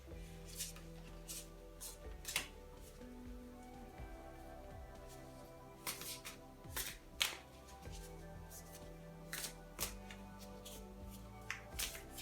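Tarot cards are shuffled and drawn, with quick riffling bursts and crisp card slaps at irregular intervals, close but faint over a low background hum.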